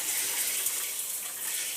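Water runs steadily from a replacement RV shower faucet with adjustable pressure, a soft, even hiss of spray with no voices over it.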